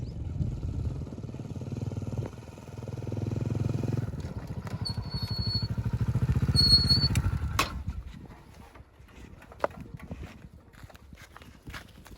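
A motorcycle engine idling and revving nearby, its rumble swelling then cutting out around the middle, followed by a quieter stretch of clicks and small knocks.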